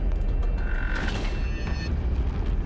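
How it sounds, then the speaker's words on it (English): A metal door in the Silent Hill: Origins game creaks open with a long, close, grinding groan over a steady low rumble of background ambience. "It's that one metal door sound that has been ruined for me by rare games."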